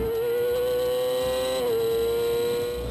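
A Yamaha superbike with a Dynojet quick-shifter screams at high revs on the track at NOLA Motorsports Park, a steady loud engine whine with a brief dip as it snaps into the next gear.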